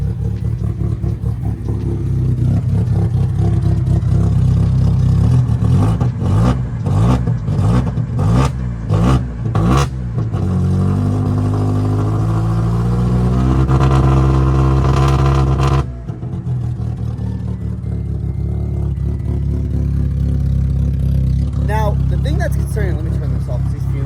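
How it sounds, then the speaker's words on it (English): A smoking Honda Civic with a D-series engine revs loudly, climbing through repeated throttle blips and a sustained rising rev before dropping back to a rough idle, with people talking nearby. "when I went and revved it"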